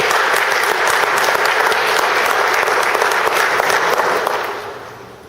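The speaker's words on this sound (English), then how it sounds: "So let's give everybody a round of applause that decided to show up." Crowd at a regional business gathering giving a round of applause, loud, dense clapping sustained near at hand before tapering off at the end.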